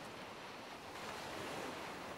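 Wind-driven waves pounding a lakeshore beach at Windy Arm, a steady broad roar of surf and wind, faint and distant with a slight swell midway, no voices.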